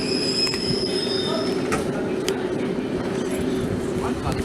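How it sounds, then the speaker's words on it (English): A train leaving platform 10 at Stratford International station, with steady loud rumble, high wheel squeal and tonal whine throughout and voices in the background. "The train's about to leave off of platform number 10 at Stratford International."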